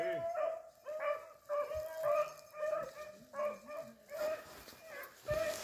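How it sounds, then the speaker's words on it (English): A hunting dog bays and barks repeatedly while trailing a rabbit outdoors, coming as rhythmic yelping calls at moderate distance, with people talking faintly in between. "the one the dog's barking on?"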